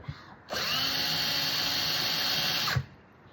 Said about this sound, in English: I'm gonna use my drill